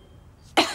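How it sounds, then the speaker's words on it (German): A voice gives a single short, sharp throat clearing in a German audio drama, sudden and close after a near-silent pause. "Raquel räusperte sich"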